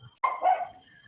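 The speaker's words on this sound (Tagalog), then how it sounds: "Okay, maingay yung aso." A single dog bark, close and fairly loud, breaks a quiet background and trails off over about a second.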